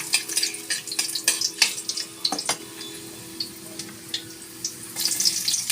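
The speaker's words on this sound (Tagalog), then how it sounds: "lagay natin yung bawang, ay yung luya." Ginger and garlic going into a hot pan give a moderate sizzle dotted with frequent clinks and scrapes of a utensil, busier at the start and end with a calmer middle and no voices.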